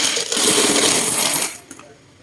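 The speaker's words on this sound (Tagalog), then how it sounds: "Bilangin man natin yung barya." Coins from an Ipon Challenge savings stash clatter and spill in a loud, dense cascade for about a second and a half, then trail off into a few scattered clinks.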